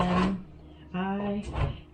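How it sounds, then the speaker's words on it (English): A bar of soap is rubbed against a hand grater near the bottom of the bar, giving a few short, close, rasping scrapes with pauses between them. "So I'm getting down to the bottom with the grater"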